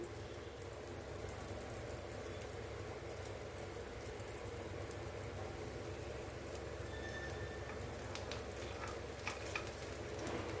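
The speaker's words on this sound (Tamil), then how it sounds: "அடுப்பை சிம்மில் வச்சு மூடி போட்டு வேக வச்சுருவோம்" Idli batter and sago paniyaram cooks under a lid on a low flame, a faint steady sizzle and soft crackle running evenly throughout with no talk.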